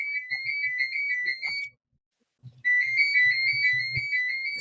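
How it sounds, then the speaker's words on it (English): A landline telephone rings indoors with a bright electronic warbling trill in two bursts of roughly two seconds each, separated by a short silent pause, with faint low knocks and handling noise underneath. "the bloody landline's ringing"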